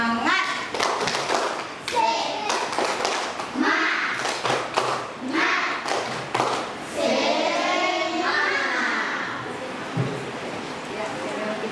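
Schoolchildren in a classroom perform a rhythmic ice-breaker clapping chant, sharp claps and taps in patterned bursts mixed with their chanting voices and a teacher's voice, close and lively.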